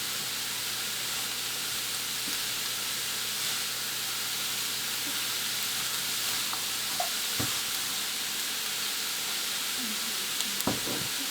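Shredded cabbage fries in a pan for a cabbage thoran, giving a loud, steady sizzle with occasional stirring clicks and scrapes.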